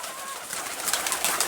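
Pigeons coo on a farm amid a dense, hissy wash of bird activity, with soft fluttering sounds building toward the end.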